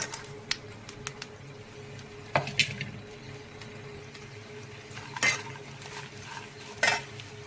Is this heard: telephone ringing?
no